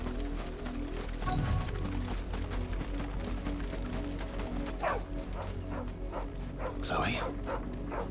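Dog barking and whimpering in the video game Final Fantasy XVI, a few yips and whines amid game sounds and background music, with a voice speaking over it.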